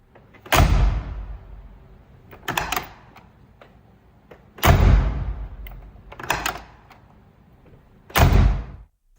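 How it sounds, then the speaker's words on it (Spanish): Heavy Mercedes car doors shutting with a solid, old-fashioned thunk, four separate closes spaced a couple of seconds apart, each a loud close slam with a short rattling tail and no talk. "eso te lo recuerda cada vez que cierras una puerta gracias a ese sonido clásico de cierre"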